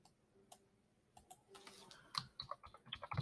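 Someone typing a short phrase on a computer keyboard: soft, irregular key clicks that start sparse and quicken into a steady run of taps, close and quiet with no talking.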